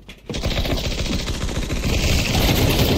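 Sustained automatic gunfire in Counter-Strike 2, a rapid, loud, continuous stream of shots that starts abruptly and keeps going for the full few seconds.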